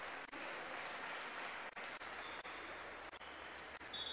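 Spectators at a women's basketball game against Miskolc applaud a player as she is substituted off, a moderate spread of clapping from the stands with a few sharp ball bounces or thuds cutting through.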